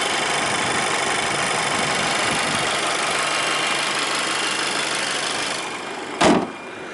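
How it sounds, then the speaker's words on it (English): A 2016 Volkswagen Polo 1.4 BlueGT engine idles steadily at close range, a continuous low rumble with broadband hiss, ending with a brief sharp thump near the end. "Very clean engine, ticking over nicely."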